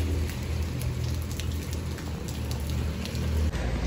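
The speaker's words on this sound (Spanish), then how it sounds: "Vean cómo está lloviendo súper fuerte." Heavy rain pours steadily, a dense wash of drops pattering on surfaces close by, continuous and loud without any talking.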